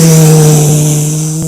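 A human beatboxer imitates a car passing by with a loud, steady buzzing vocal tone that swells and then eases off slightly as it fades away.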